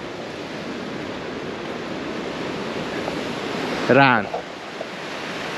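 Ocean waves wash onto a beach on Koh Lanta, a steady broadband surf roar throughout, with a brief voice speaking near the end.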